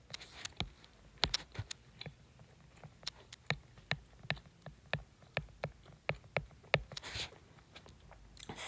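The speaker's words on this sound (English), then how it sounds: "Now I will type in the left side." Typing on a computer keyboard: a steady run of distinct, fairly quiet key clicks at an even rhythm, close by and alone.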